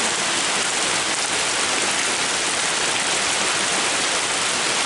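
Rain falling outside, a dense, even wash of hiss that stays steady and fairly loud throughout with no breaks.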